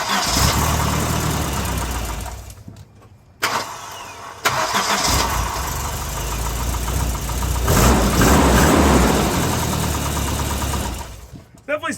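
Volvo 244 engine from 1992 running in the bay after engine and transmission mount replacement, a loud steady idle hum with brief cutouts and a revving swell midway, no talk.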